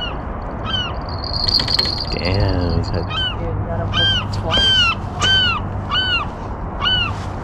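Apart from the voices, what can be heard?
seagulls calling on a fishing pier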